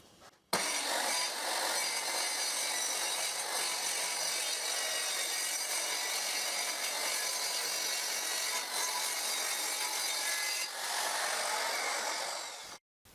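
Circular saw ripping a plywood board along a rip fence jig, a loud, steady whine of the blade biting wood that runs for about twelve seconds before spinning down, with no talking over it.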